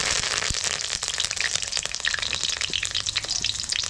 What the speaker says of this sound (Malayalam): എണ്ണ ചൂടായി വരുമ്പോൾ കുറച്ച് കറിവേപ്പില ഇടാം.